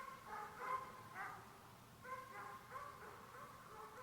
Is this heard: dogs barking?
yes